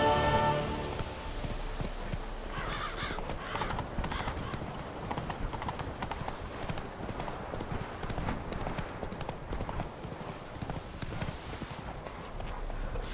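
Roach the horse gallops through The Witcher 3 game world, a steady rapid clip-clop of hooves held across the whole stretch under game music and ambience, loud and close.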